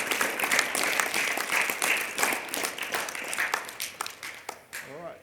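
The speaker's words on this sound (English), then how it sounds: "So I'd like you all to put your hands together and give them a round of applause." A room full of people claps in a steady round of applause, the clapping thinning out and fading near the end.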